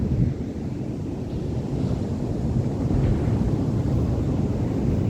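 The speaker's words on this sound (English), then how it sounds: "Waves are still big" Large surf breaking on an Australian beach while offshore wind blows, a steady heavy rumble of waves with wind buffeting the microphone throughout, loud and close with no voices.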